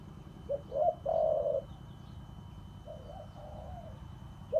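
A pet bird coos softly at close range in two short phrases: a couple of low warbling coos, a pause, then a gentler second run, with a quiet room hum beneath.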